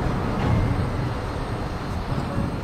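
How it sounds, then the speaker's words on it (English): A long coal train passes a crossing in Mount Hope, West Virginia, making a steady, continuous low rumble that holds at an even loudness throughout, with no voices. "A little longer train than usual comes through here."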